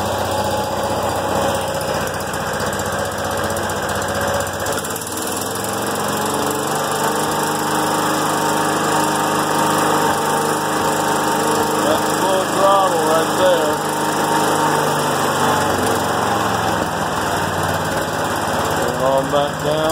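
A John Deere 212 lawn tractor engine idles without choke: a steady, close, buzzing small-engine drone that runs throughout with faint mechanical rattles.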